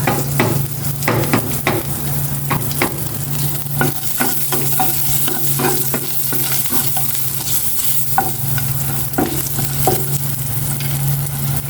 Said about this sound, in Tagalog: Manggigisa na ako.